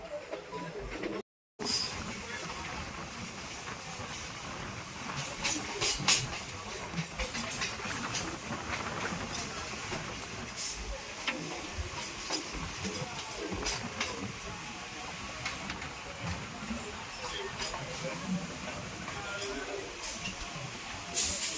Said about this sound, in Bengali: এইভাবে ট্রেন ঢোকাটা অসম্ভব সুন্দর লাগে